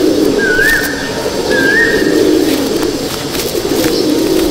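Pigeons in a pigeon loft, two clear rising whistled calls early on over a loud, steady background of fluttering and murmuring, close by, with no talk.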